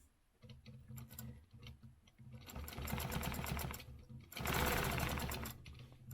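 A sewing machine stitches a stencil design, its needle running in fast, even ticking bursts that start and stop, growing louder and steadier in two longer runs, close by.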